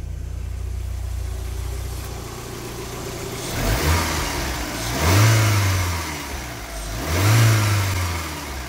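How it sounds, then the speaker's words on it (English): A 1992 VW Corrado 16v engine idles steadily, then revs up on its own twice in smooth swells before settling back, close and loud with no talking. "That just revved on its own."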